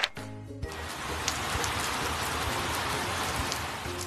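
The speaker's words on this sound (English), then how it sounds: "It was raining." Steady rain falls in a dense, even hiss that runs unbroken for several seconds after a short tonal opening, with faint scattered drops standing out here and there.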